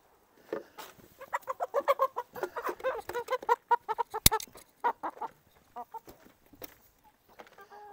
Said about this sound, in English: All the chickens in the coop.